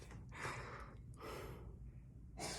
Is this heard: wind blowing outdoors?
no